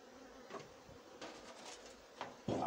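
Honeybees buzz faintly around a hive at an apiary, a low continuous drone with a few louder passes, heard alone with no voices.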